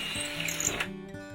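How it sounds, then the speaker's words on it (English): A power drill bores through timber battens in one short, continuous whirring burst with a mechanical rattle, close up and heard alone. "Drill the holes through the battens"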